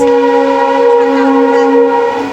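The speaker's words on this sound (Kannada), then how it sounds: "ಇಲ್ಲೇ ಟ್ರೈನ್ ಅಳಿ ಐತಲ್ಲ ಮಸ್ತ್ ಐತೆ ನೋಡು ಟ್ರೈನ್" A loud train horn blares continuously as a single sustained tone, close by, with no talk.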